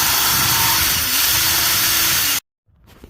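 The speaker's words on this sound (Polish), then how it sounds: "muszę teraz wziąć wiertełko i sobie tutaj zrobić małe mocowania" A power drill with a small bit whines steadily at high speed for a couple of seconds while drilling a small mounting hole during Volvo V70 T5 brake repair, then cuts off abruptly, leaving quiet with faint handling noise.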